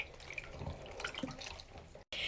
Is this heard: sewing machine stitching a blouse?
no